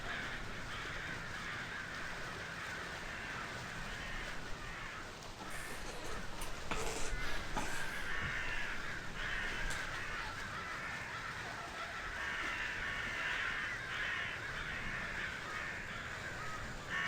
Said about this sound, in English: There's too many birds.